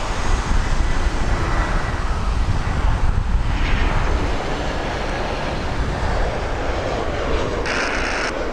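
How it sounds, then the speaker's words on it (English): An Air Canada Rouge airliner arrives at Toronto Pearson Airport on a Friday night, heard as a steady, moderately loud broadband engine rumble that holds evenly throughout, with no talking. "Rouge 1910 coming in from Kelowna"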